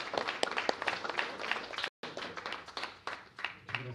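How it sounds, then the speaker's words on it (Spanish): Audience applause for Hacker Garage at a data science meetup, a dense patter of clapping from a small room, cut by a brief gap midway and fading toward the end. "un aplauso para Hacker Garage"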